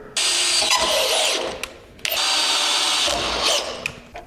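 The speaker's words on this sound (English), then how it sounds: "I'm just going to drill an 1/8 inch pilot hole right there where those cross marks are." A power drill whines loudly in two bursts, boring a 1/8 inch pilot hole on a Jeep JK Rubicon for a tow setup, with a brief pause between them, close up.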